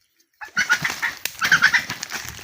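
A freshly caught female red junglefowl beats its wings in a rapid, close flurry of flapping and rustling that begins abruptly after a moment of silence and continues in uneven bursts.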